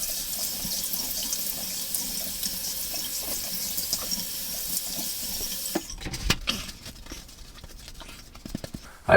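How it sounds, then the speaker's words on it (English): Cold tap water runs steadily into a sink for rinsing a face after a shave, then gives way to splashing and handling noises as water is scooped up. "Some cold water going."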